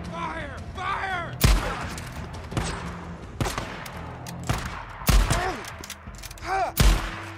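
Gunfire in the video game Days Gone, several sharp loud shots spaced a second or so apart, mixed with game effects and a voice talking between bursts.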